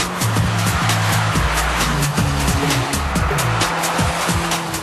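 Carver three-wheeled tilting vehicle with a two-seat tandem cockpit and a small city-car engine, driving through bends with a steady engine drone and rhythmic shifting tones, loud and close, no talk.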